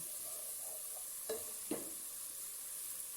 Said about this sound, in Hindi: ये हम थोड़ा सा खुश्क धनिया हम डाल रहे हैं पिसा हुआ, और इसको अच्छे से भून लेंगे।